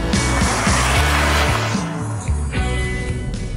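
A Ford Fiesta ST Line's 1.0-litre three-cylinder engine braking on the road: a loud, close, continuous drone whose low pitch drops and steps between levels several times, with broad road and wind noise over it and no voices.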